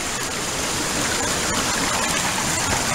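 A creek at a waterfall camp rushes steadily and close by, a dense unbroken wash of flowing water with no voices.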